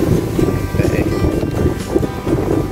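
Steady wind rumbling on an open riverside bank, with a constant broadband roar buffeting the microphone; a voice speaks briefly under it.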